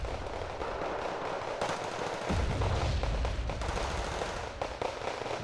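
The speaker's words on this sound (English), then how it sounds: "Oh, artillery coming down on the Commando Pair though." Artillery and gunfire in a strategy video game match, a continuous crackle of rapid shots with heavier low booms rolling through the middle, fairly distant and steady, with no voices.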